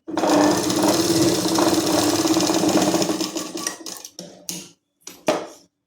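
A sewing machine stitching a patiala salwar, running in one continuous loud whirring burst for about three seconds, then slowing into a few short separate stitching bursts with gaps of silence, close up, without speech.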